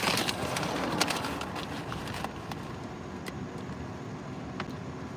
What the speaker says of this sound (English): I got my window down so I can hear cars beside me.